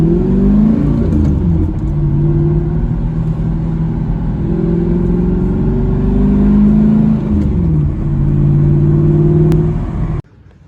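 Mercedes C55 AMG with a 6-speed manual drives close and loud from inside, its engine revving up and easing off through several gear changes before cutting off abruptly near the end.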